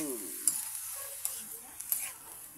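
Lamayagan, a squid-like seafood, sautéing in a pan gives a soft continuous sizzle, broken by a few faint clicks of stirring.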